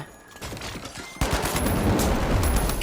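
Gunfire crackles through a match of THE FINALS, quieter shots at first, then a sustained loud rapid burst of fire with no talk.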